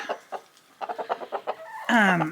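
Chickens cluck in a quick series of short, close clucks, ending in a louder drawn-out squawk.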